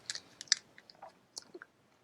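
Close, crisp chewing of a crunchy peanut butter snack with a little toffee in it, irregular bites and crunches with soft pauses between, no talking.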